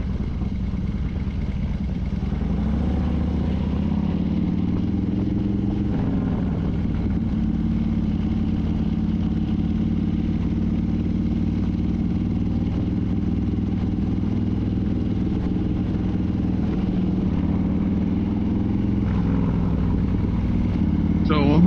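A Harley-Davidson Road King motorcycle rumbles steadily while riding through city streets in Washington, D.C., a continuous low engine drone with some traffic clatter, heard close throughout.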